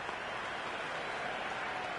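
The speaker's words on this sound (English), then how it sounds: "Good crowd in this morning for day one. A real carnival atmosphere inside and outside the ground." A cricket crowd in the video game Cricket 26 applauds after a boundary at an Ashes Test, a steady, dense wash of clapping and crowd noise filling the whole short stretch without a break.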